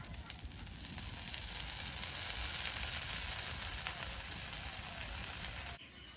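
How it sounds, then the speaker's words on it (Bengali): Rice and lentil pitha batter sizzling in oil in a pan, a loud, dense, continuous hiss with light crackle, steady until it cuts off near the end. "কানা দিয়ে একটু তেল দিয়ে দেবো।"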